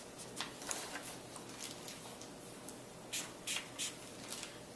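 A manga marker colors on paper in short, faint scratchy strokes. The brief swishes come in uneven bursts over quiet background hiss.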